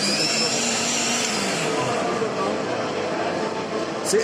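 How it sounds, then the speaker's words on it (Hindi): A mixer grinder whirs steadily at a food trade fair demonstration, with a continuous motor drone and a busy crowd in the background. "ये मिक्सर है और ग्राइंडर है, इसके अंदर सारी चीज़ें हो जाती हैं"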